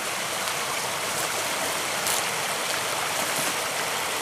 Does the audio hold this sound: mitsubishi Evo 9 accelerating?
no